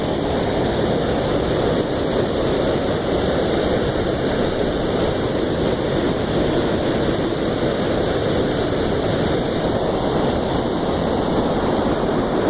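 Steady, heavy rush of water flowing over the Manchester Bolton Bury Canal feeder weir, a close, continuous broadband roar that stays level for the whole stretch, with no speech over it.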